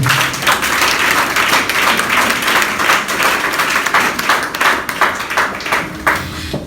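Church congregation applauding during a French sermon, a dense, sustained burst of clapping that fills the space, irregular and lively, with no speech standing out above it.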